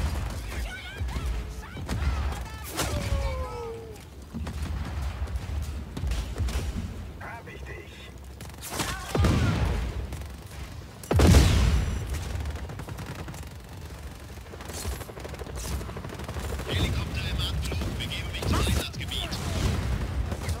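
Scattered gunfire bursts and thuds ring out at irregular intervals amid Just Cause 4 game sound effects, with voices talking over the action.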